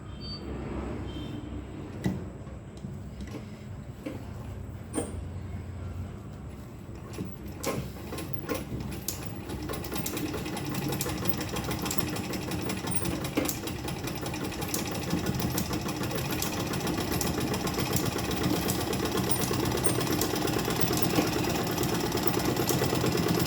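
A sewing machine stitches along a purse zipper, its steady mechanical whir and ticking running continuously and fairly loud throughout, with no talk over it.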